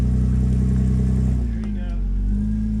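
An S10 pickup truck engine drones low and loud as its tires work over off-road terrain, with a brief voice partway through.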